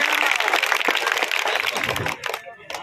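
Applause for Poonam Pandit and Archana Gautam at a Congress party event: a crowd claps densely and loudly, thinning out toward the end.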